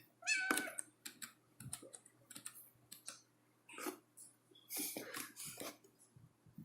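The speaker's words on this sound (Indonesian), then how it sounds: "ini kucing ngapain?" A cat meows several times nearby, short plaintive calls over quiet keyboard typing and clicking.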